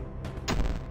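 A single short bomb blast in The Binding of Isaac, a sharp thump that fades quickly over background game music.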